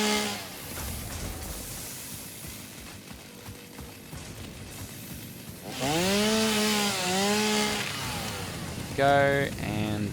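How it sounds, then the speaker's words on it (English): A chainsaw in the Satisfactory video game rises to a loud buzzing whine and wavers as it cuts through trees and bushes, with short repeated bursts near the end; a person talks during it. "pull out my chainsaw here, and we'll just take care of all of our miscellaneous trees and bushes"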